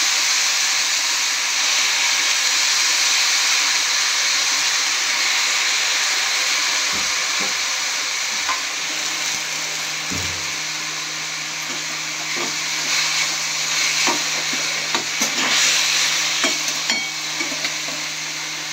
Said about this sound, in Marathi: हे सर्व व्यवस्थित परतून घ्यायचे।